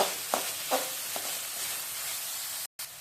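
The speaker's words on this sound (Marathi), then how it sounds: "तर वाफ काढून मी चांगली परतून घेते" Moth bean curry sizzles while being stirred in a pan, a steady frying hiss broken by a few soft scrapes from the spoon, close by and with no talking.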